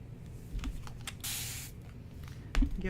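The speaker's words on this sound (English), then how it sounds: "Give that a nice little spritz, that way it doesn't dry." A spray bottle spritzes water onto a paint palette in one brief, hissing burst, quiet and close, among small soft taps and handling clicks.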